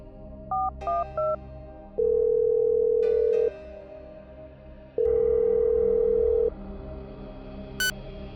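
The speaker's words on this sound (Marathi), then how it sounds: "त्याने लगेच शिवाला फोन लावला पण त्याचा फोन नॉट रिचेबल येत होता मग त्याने त्याच्या माणसांना फोन लावला" Telephone tones while a call is placed: short clusters of touch-tone dialing beeps, then two long steady ringback tones separated by a pause, loud and clear over low background noise, with a brief beep near the end.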